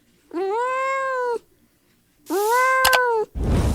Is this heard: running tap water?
no